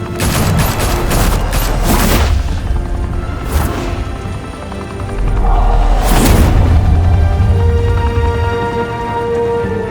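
Gunfire in a Batman game on PS5: loud bursts of rapid shots with booming impacts, heavy and close, interrupted by short pauses, over a low rumbling game soundscape.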